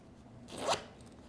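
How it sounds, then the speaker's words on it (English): A zipper is pulled closed on a small packable beach towel pouch: one quick, close rasping zip lasting under half a second against quiet room tone. "And then you can just zip it up."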